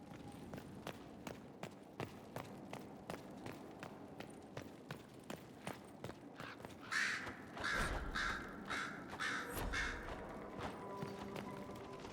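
In the fantasy video game Dragon Age Inquisition, several crows caw in short bursts in the middle of the clip, heard over a steady run of footsteps and thumps in a quiet setting.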